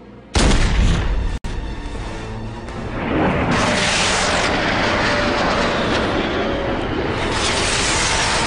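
A gunshot cracks out loud in a TV comedy scene, followed by a sustained roaring burst of gunfire or explosion noise that fills the rest of the moment, with no talk over it.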